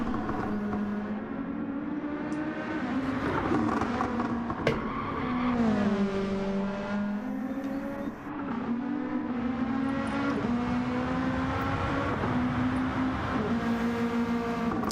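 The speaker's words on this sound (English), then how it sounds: "Obi doing some short shifting, not letting that car get up to full RPM." Super GT race car engine in a racing game, short-shifted so it never reaches full revs, droning loudly and steadily with repeated pitch rises and drops between gear changes.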